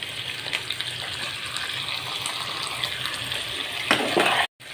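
Chopped tomatoes hitting a pan of lightly fried onions and green chillies, setting off a steady hissing sizzle that swells near the end before cutting out abruptly.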